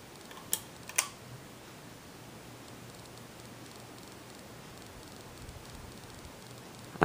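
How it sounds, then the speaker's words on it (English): A 42-inch Banvil ceiling fan spinning at its highest speed gives a soft, steady airy whoosh over a faint low hum. Two sharp clicks come near the start in an otherwise quiet room. "I'm going to demonstrate the fan, and start with the highest speed"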